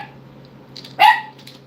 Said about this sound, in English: Why are you barking at the wall?